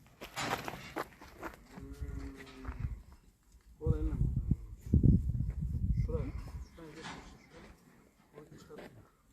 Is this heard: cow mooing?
yes